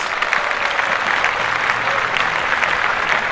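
A podcast audience claps in a steady, dense round of applause that fills the whole moment at close range, with no one speaking over it.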